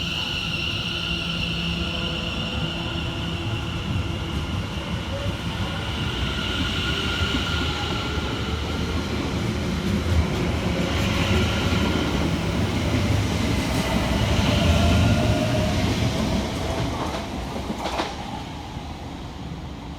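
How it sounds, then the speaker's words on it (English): London Overground Class 710 electric trains pull away from Stoke Newington station in the opposite direction, a steady rumble of wheels and motors building and passing nearby for about twenty seconds, with no talk. "Departing in the opposite direction for London Overground is 710 118 and 710 129"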